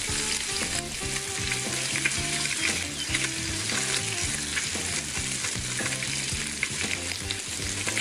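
Meat and paella rice fry and sizzle loudly in a pan over a wood fire, with a constant crackling hiss and repeated scraping knocks from stirring, and no talking.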